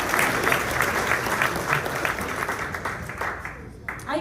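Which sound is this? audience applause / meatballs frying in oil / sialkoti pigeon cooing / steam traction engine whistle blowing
audience applause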